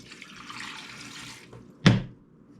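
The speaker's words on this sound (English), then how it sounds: "And then I'm adding a cup of water." Water pours in a steady hissing stream into an Instant Pot for a second or so, then a brief clunk follows.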